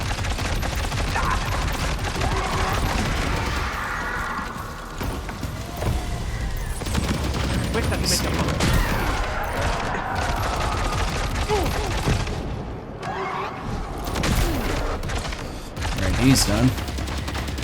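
Rapid in-game gunfire bursts from a firefight in Death Stranding 2, crackling steadily through the clip under a player's running commentary.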